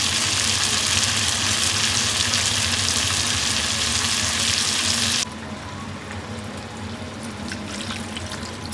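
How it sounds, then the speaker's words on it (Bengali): Chicken curry meat fries and is stirred in a pan, making a loud, continuous sizzle with watery crackle that suddenly drops to a quieter simmer partway through. "আস্তে আস্তে ভালো করে মাংসটাকে কিন্তু কষাতে হবে"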